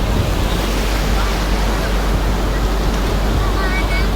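Ocean waves at Mypad beach near Nellore, a loud, constant wash of surf mixed with heavy wind buffeting the microphone, with a voice speaking over it.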